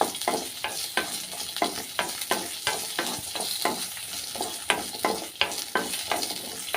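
Ginger and two dried chillies sautéing in a pan, with a steady sizzle under rhythmic stirring scrapes at close range.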